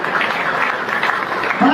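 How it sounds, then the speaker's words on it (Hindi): Crowd applause at a political rally, a brief, dense wash of many people clapping, loud and continuous, with a voice briefly rising near the end. "तालियों में बजाना कम नहीं होनी चाहिए"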